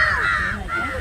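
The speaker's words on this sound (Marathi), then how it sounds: "उन्हाळ्याच्या कावळ्यांच्या अंघोळी चालल्या." Crows bathing in water during summer give a short burst of loud, harsh cawing at close range, with faint talk in the background.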